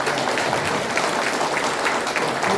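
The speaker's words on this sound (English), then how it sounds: "everybody give you a round of applause" A round of applause from the audience at a Remembrance Day commemoration of the Battle of Kohima: dense, even clapping across the hall, moderately loud and sustained throughout with no voices over it.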